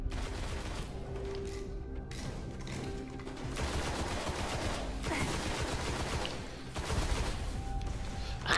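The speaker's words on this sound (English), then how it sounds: "They're cheating because they're shooting me with bullets" Gunfire in the video game Destiny: dense bursts of automatic fire and rapid shots layered over a loud, busy game soundscape, continuous and close, with no clear talking.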